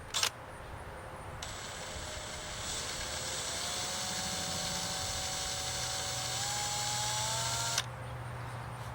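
A drill runs slowly and steadily into a foundation during a window well installation, a continuous whining motor with a rising pitch that holds for several seconds before stopping abruptly, close and fairly loud.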